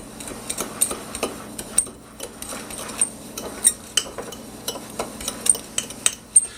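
A spoon clinks and scrapes against a bowl while sugar and cinnamon are stirred together for a cinnamon roll filling, with a steady run of light metallic taps close by.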